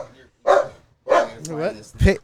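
A pet dog barks in a home podcast setting, sharp yips and bow-wows in short bursts, close and loud, mixed with people talking.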